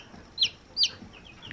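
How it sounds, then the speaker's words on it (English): Chickens in a farmyard flock give two short, high clucks about half a second apart, fairly faint over a soft outdoor background with no voices. "Just look at all those chickens."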